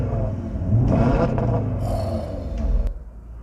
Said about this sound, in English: Put it in RS mode, get the valves open on the exhaust